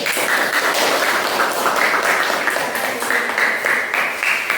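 Classroom of students applauds a discussion group, a loud, dense burst of hand clapping sustained evenly and close by.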